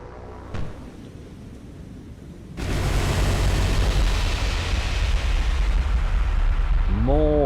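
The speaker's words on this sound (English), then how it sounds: "Blue flight coming in now, trying to release their bombs and finish off Columbo" Bombs exploding on a battleship in the naval game War on the Sea, a sudden roaring blast that settles into a loud, sustained rumble after a brief earlier pop, with a voice entering at the end.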